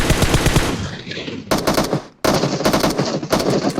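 Loud automatic gunfire in a video game, fired in several rapid bursts separated by brief pauses, with no speech over it.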